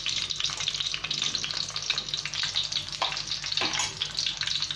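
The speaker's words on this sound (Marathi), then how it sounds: "मिरची जशी शेकत जाते ती थोडीशी ओपन होत असते." Coconut-stuffed green chilies sizzle in a pan in a steady, close frying hiss, with a couple of soft scrapes as they are turned.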